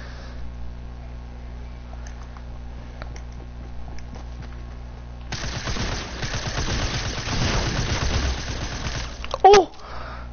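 Rapid bursts of silenced SMG fire in Fortnite, a dense crackling run in the second half of the clip with a sharp louder hit near the end, over a low steady game background.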